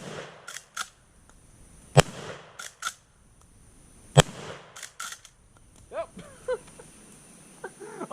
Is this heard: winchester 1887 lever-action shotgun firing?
yes